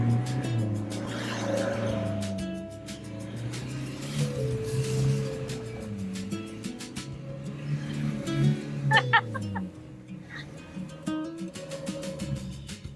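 A car drives slowly through a muddy trench dug for a rainforest garden bed in the rain, its engine revving and labouring under strain with tire noise and splashing, while people talk over it.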